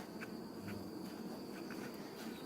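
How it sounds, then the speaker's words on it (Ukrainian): Honeybees hum steadily around a hive holding a split colony with two queens, a close, continuous buzzing drone with faint higher insect chirps mixed in, and no talk. "Бджола активізувалась"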